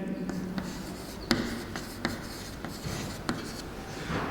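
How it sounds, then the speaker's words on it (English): Handwriting during a physics lesson gives a close, soft scratching and rubbing of pen on paper, with a few light taps as strokes start, and faint talk in the background. "let me write clearly"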